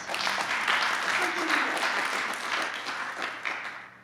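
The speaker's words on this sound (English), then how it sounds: "let's give one more round of applause" A crowd at a student film festival applauds in a steady, full burst of clapping that holds for a few seconds before starting to taper, with some voices mixed in.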